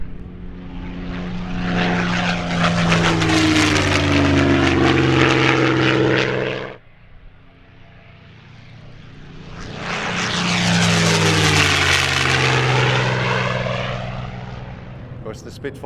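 A T-51 warbird propeller aircraft makes two loud passes at an airshow, its engine drone swelling in and fading away each time with a falling pitch, a brief quiet gap between passes.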